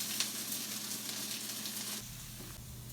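Shallots sauté over a medium flame in a pan, giving a steady close sizzle that drops slightly in level partway through, with no talking.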